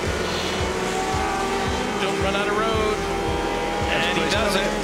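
Porsche race cars compete at Le Mans heading toward Mulsanne, their engines droning with a rhythmic pulsing and whine under an excited commentator's voice, with a faint hint of tire squeal.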